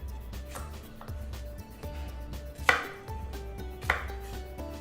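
A knife chops steadily through raw bananas on a board, trimming their ends, a run of close, regular cuts with a couple of sharper knocks.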